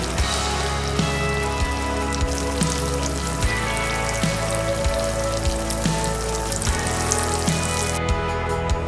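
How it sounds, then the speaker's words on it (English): Green tomato slices frying in hot oil for a Southern fried green tomatoes recipe give a steady crackling sizzle, heard under soft background music with a repeating beat. "Repeat the frying process for each tomato slice. Just listen to and appreciate that sound."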